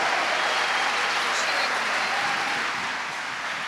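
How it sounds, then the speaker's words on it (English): Applause and cheering from a conference audience at re:publica 2014 fill the room as a dense, steady roar of clapping that slowly fades slightly toward the end. "That cheering is for you right now."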